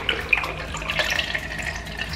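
Onion decoction pouring through a funnel into a plastic applicator bottle, a steady, close trickling stream of liquid with small splashes running continuously throughout.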